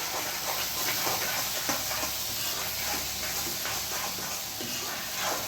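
Tomato gravy with ginger-chili paste simmering in a pan for a Punjabi sabji, a constant dense hiss and bubbling sizzle at even level throughout, no talking.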